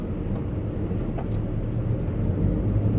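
A manual car's engine drones low and steady from inside the cabin as the gas is pressed, rising slightly toward the end, with no talking.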